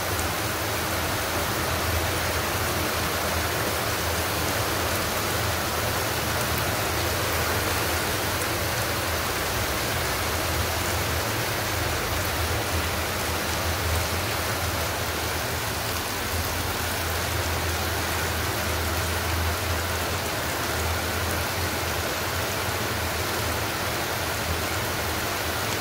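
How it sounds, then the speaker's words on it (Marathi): Heavy rain pours outside at night as a steady, dense hiss that runs without pause or change for the whole stretch. No voices are heard. "पाऊस खूप आहे बाहेर"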